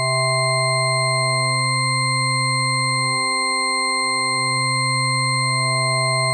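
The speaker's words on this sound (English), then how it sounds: "I don't know what a Shepard tone is, but this is it, basically." A Shepard tone from a PWM Mantis synthesizer: steady layered sine-like tones whose lower partials seem to glide endlessly as voices fade in and out, smooth and continuous.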